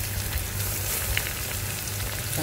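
Onions frying in a pan with curry leaves for a chicken curry, a loud, dense, continuous sizzle heard close up with faint stirring and no talking.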